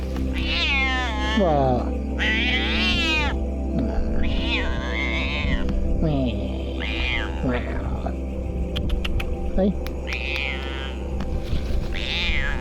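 Two rescued kittens meow repeatedly in high, wavering cries, close and loud, over a steady low hum, while a person talks to them between the calls.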